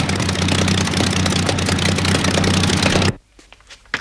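A worn-out, failing engine idles with a loud, rough, steady rumble and faint irregular knocking, then cuts off abruptly, leaving near silence with a few small thumps.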